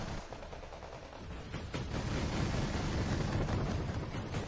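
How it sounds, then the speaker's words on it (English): A BMPT's autocannon fires in the Wargame: Red Dragon video game, a dense continuous roll of rapid shots and booming impacts layered with battle noise, loud and steady throughout with no talk. "Get some action with his autocannon."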